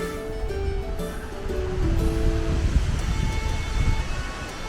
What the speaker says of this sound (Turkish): Bakın burada bir şelale var.